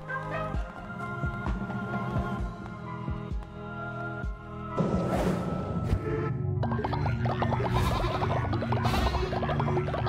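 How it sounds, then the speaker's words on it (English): Sheep bleating in the video game Cult of the Lamb, layered over steady game music and ambience, with several short bleats standing out near the middle and end. "Let us have a sermon about sheep noises."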